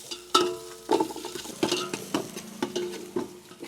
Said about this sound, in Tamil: பூண்டு அடுத்தது பூண்டு போடுறேன் ஓகே இஞ்சி போடுறேன் வெங்காயம் போடுறேன்